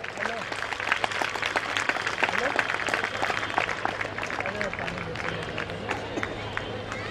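Audience applause at a school Founder's Day ceremony after students are named for a prize-winning science project, steady clapping from a large crowd with chatter mixed in throughout.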